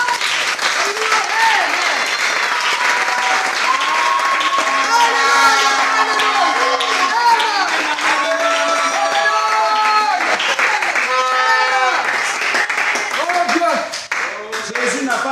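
A church congregation applauds and cheers through a sermon, a dense, steady wash of clapping and shouting voices with whistles and excited calls rising over it, holding loud for the whole stretch before easing slightly near the end.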